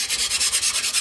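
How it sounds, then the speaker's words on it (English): A diamond hone strokes back and forth along a reel mower's cutting blade, about nine quick, even rasping passes in one second, close up and alone. "Diamond hone."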